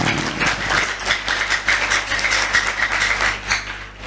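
Students applauding at a school prayer gathering in an Indonesian vocational high school, a steady wash of many hands clapping together, fairly close and continuous with no one speaking.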